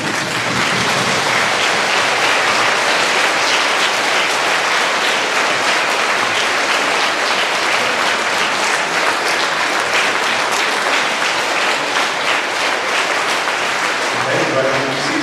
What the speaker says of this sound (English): Let's stand up and clap for our veterans.